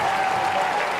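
At a Shaw vs Rummel high school football game, the crowd on the Rummel side roars with steady, dense applause and cheering from a packed stand, heard as a loud, unbroken wash of sound.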